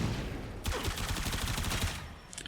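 Rapid gunfire from a weapon build being tested in a video game, a quick even string of about a dozen shots, fairly faint and steady, with no talk over it.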